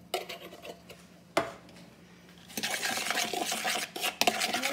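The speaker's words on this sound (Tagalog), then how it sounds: "Mix lang natin siya." A spoon stirs curry powder into chicken mandi in a pot, with close scraping and clattering against the metal that grows busier and louder partway through.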